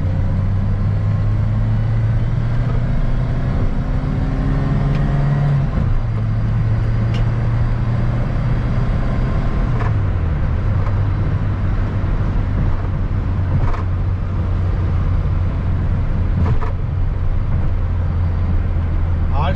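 A 1986 Peugeot 205 1.3 SR accelerates from a start in third gear, its engine droning loud and close with a steady pitch that climbs, dips briefly and climbs again.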